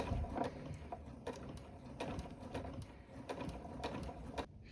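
A sewing machine stitches slowly in a straight line along the length of fabric, a faint, steady mechanical clatter with rhythmic ticking pulses and no talking.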